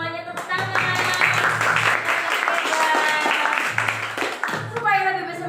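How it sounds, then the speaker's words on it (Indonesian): Students clapping in a classroom, brisk applause mixed with an adult voice talking over it throughout. "Terima kasih semuanya, tepuk tangan."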